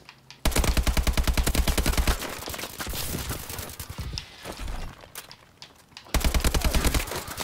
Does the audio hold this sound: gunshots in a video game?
yes